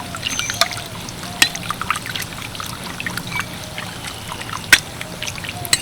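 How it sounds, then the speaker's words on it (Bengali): Hot oil is splashed over phuluri fritters frying in a pan. A loud, continuous bubbling crackle with scattered sharp spits and pops runs throughout, with no voices. "এর মধ্যে এইভাবে তেল ছিটিয়ে দেব"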